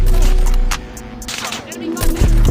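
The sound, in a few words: sniper rifle gunshots in a video game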